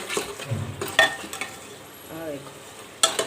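Masala frying in a pan for a mushroom and pea curry, a soft crackling sizzle broken by scraping, clanking stirs against the pan, close and uneven, with a faint voice briefly in the background.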